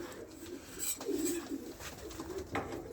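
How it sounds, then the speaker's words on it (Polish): Racing pigeons coo softly nearby, low throaty calls repeating amid light rustling and faint background noise. "Gołębie walczą godzinę już."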